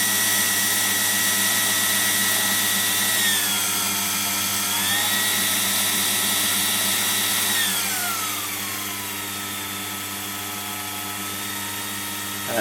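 A Warco 18 GH milling machine converted to belt drive runs at maximum spindle speed, giving a steady, fairly quiet motor hum with a whining tone that shifts pitch partway through and then settles, continuous throughout.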